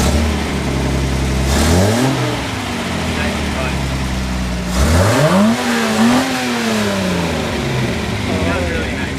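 A Nissan 240SX's SR20DET engine revs on the throttle in a garage, two swelling blips that climb and fall over a steady idle, loud and close, with people talking over it.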